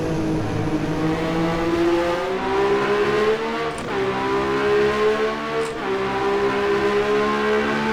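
Engine of a 1982 Ferrari 126C2 Formula 1 car in the rFactor 2 racing game, a loud, steady high-pitched drone that rises and falls through gear changes, heard close and without any talking.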